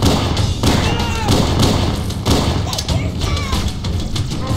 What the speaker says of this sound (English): I threw a frag grenade at them, not a plasma grenade